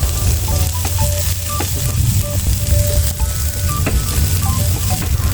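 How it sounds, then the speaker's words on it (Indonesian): Sliced chilies and squid sauté in a pan with a loud, steady sizzle, punctuated by repeated clinks and scrapes of a utensil against the metal. "Ini kita tumis sampai agak-agak layu, tapi tidak terlalu layu juga ya"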